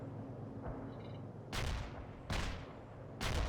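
Heavy artillery fire in the video game World in Conflict, three loud booming blasts in succession, each a broad burst that rolls off slowly over a low rumbling background.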